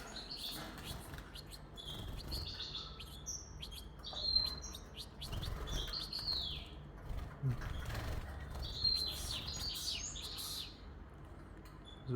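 Goldfinch chicks give repeated high, thin chirps and short tweets, scattered through the whole stretch over a faint steady background hum, fairly close and with no voices.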